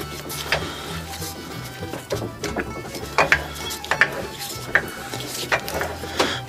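A crankshaft being turned by hand inside a rebuilt 1965 VW 1200 40hp short block, giving a steady run of ratcheting, clicking mechanical rotation with sharper metallic ticks toward the end, close and fairly loud.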